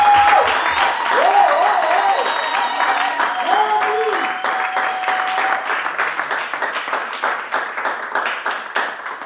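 A church congregation applauding to acclaim Jesus, loud sustained clapping that starts dense and settles into a rhythmic beat, with a voice speaking over it at first.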